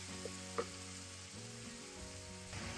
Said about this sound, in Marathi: यामध्ये आपण आता बारीक चिरलेला कांदा घालणार आहोत. कांदा मस्तपैकी फ्राय होऊ द्यायचा आहे